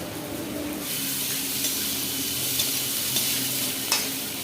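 Pumpkin peel fries in a pan with a steady, soft sizzle and occasional stirring scrapes, with no talk over it.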